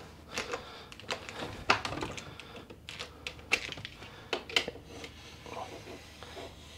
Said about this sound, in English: I'm gonna take a utility knife and just slowly cut along the edge of